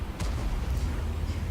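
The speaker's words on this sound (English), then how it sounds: "nice shot into the side of the T-34's turret" Tank cannon fire in World of Tanks, heavy deep booms with a short sharp crack near the start and a lingering low rumble afterward, loud and close in the game's battle soundscape.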